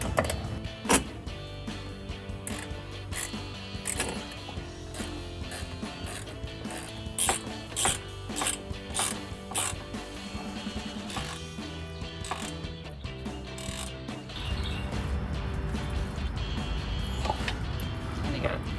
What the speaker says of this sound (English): take your 19 millimeter ratchet once again, and then we're going to tighten these down once and for good